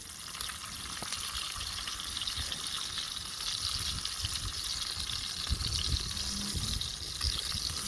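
Bacon coated in Memphis barbecue seasoning fries in a pan, a steady close crackling sizzle with scattered pops and no talking.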